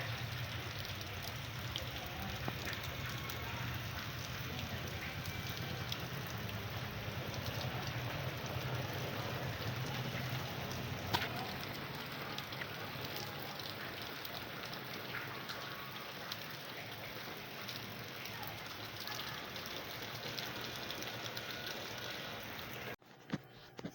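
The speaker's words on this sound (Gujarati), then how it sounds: "આજે પણ વરસાદ તો ચાલુ જ છે સવારનો" Steady drizzle falls outdoors during monsoon, a continuous even hiss of raindrops on surfaces that runs unbroken and fairly close before cutting off abruptly at the very end.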